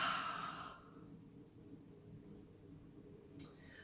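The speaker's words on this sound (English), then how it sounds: "Inhale to lengthen and exhale through the mouth" A slow breath pushed out through the mouth during a yoga stretch, loud at first and then trailing off into quiet room tone.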